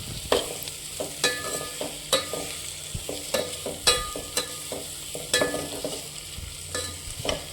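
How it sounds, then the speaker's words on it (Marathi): Sliced tomatoes stirred and fried in a pan, with repeated sharp clicks and scrapes of a spoon against the metal at an uneven rhythm over a low, steady sizzle, close by. "मिक्स करून घेऊया टोमॅटो पण."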